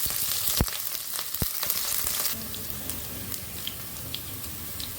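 Garlic frying in oil for a Bengali-style broccoli sabji, a steady close sizzle with a couple of sharp clinks early on, settling into a softer bubbling crackle.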